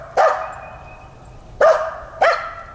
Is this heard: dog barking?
yes